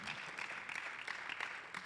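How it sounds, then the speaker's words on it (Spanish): A church congregation applauds for the Lord during a sermon, a dense steady clatter of many hands clapping at a loud, even level without a break. "applause to the Lord"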